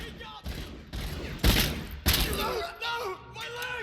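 Gunshots ring out in the RoboCop Rogue City video game, a few loud, sharp cracks with reverberant thuds, followed by a voice groaning in pain.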